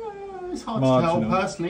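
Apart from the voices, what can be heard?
cat meowing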